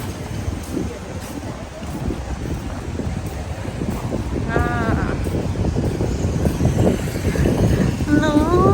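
Strong wind buffets the microphone at the seaside in a steady low roar that grows louder toward the end, with brief voices and short calls surfacing over it.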